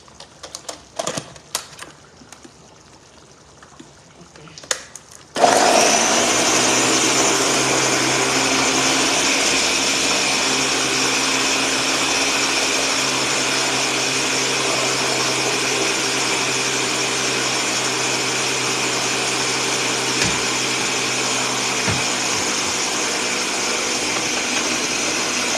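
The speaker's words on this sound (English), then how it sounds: "let me blend the first batch" A blender whirs into action on callaloo greens and okra after a few clicks and brief handling sounds, then runs loud and steady for about twenty seconds.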